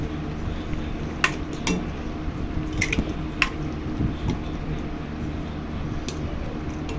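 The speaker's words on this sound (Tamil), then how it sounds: "ஊற்றிட்டு இதை நல்லா மிக்ஸ் பண்ணிடலாம்." A spoon clinks and scrapes against a pan while stirring brinjal gravy amid soft wet squishing, with irregular metallic taps over several seconds and no voices.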